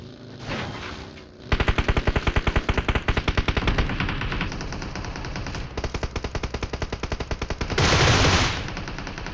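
Rapid automatic gunfire in a shooter video game rattles out in long, evenly spaced bursts, loud and close, with a short pause between volleys and a heavier crackling burst near the end.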